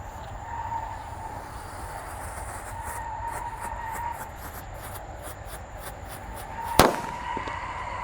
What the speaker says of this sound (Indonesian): Lanjut di sini ada mercon disco Laptor Happy Flower.